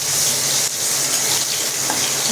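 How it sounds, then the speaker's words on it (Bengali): Potatoes and pointed gourd frying in hot oil, a steady loud hiss and sizzle that holds evenly throughout with faint crackles. "দেখো ভেজে নিচ্ছি আলু আর পটলটা।"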